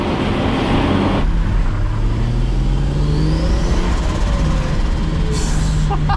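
A Bangkok taxi car engine pulling in third gear, a steady loud drone with rising engine tones as it accelerates, heard from inside the cabin with no talk.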